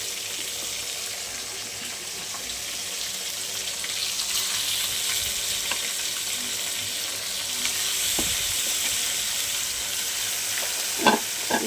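Chicken pieces for a curry fry in a pan with a steady, bright sizzle, and a few stirring scrapes and clinks come through near the end.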